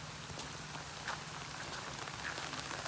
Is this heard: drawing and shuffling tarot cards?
no